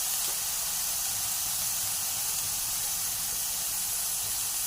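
Chicken fries in a pan of oil with garlic, a steady soft hiss and sizzle running unbroken without talk.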